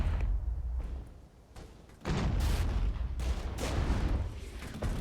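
Heavy artillery booms and gunfire in the Regiments wargame, with a deep opening blast, a quieter lull, then a loud sustained barrage of thumping detonations and crackling shots.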